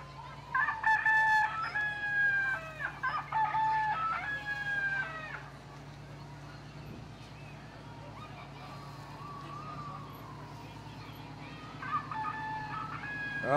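A rooster crowing from a float in the Harvest Home Fair parade, three loud, drawn-out cock-a-doodle-doo calls in quick succession, then a pause over a low engine hum before a fourth crow near the end.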